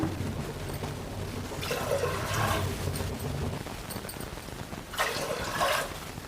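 Water from a glass is poured into a pressure cooker for a little millet pongal, two separate splashing pours a few seconds apart, fairly quiet against soft kitchen background noise.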